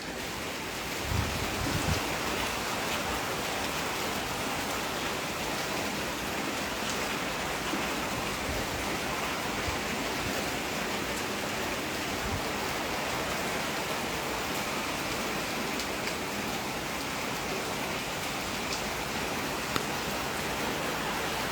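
Steady rain during Cyclone Remal over the Bay of Bengal coast, a dense, even hiss of falling drops that holds at a constant level from start to finish with no voices.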